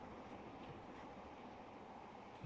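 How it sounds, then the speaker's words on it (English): An old locomotive in a train simulator game, Cornish Merchants route, gives a steady, continuous rumbling roll with a broad noisy texture and no distinct beats, heard alone at even loudness. "There's the old train."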